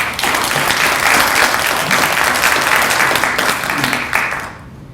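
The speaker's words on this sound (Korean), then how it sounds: "우리 후보님들에다 박수 한번 보내주십시오" A live audience at the Daejeon education superintendent candidates' policy debate applauds the candidates with dense, steady clapping that holds for about four seconds, then tapers off.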